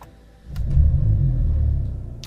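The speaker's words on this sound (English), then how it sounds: "Push the starter and this 4-cylinder engine comes to life with a roar." A Mercedes-AMG GLC43 four-cylinder engine starts up, and its deep growl rises after a brief crank. The close, loud rumble then settles into a steady idle, with a couple of sharp clicks.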